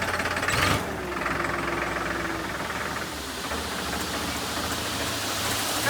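A steady low tractor engine rumble runs throughout, with a louder burst near the start and constant broadband noise over it, no speech.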